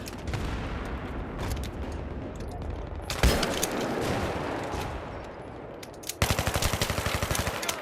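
Video game gunfire and rocket blasts in a multiplayer match, with dense rapid automatic bursts, a sharp loud impact partway through, then a fast rattling volley of shots at close range.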